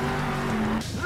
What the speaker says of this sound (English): Big time crash through the porta potties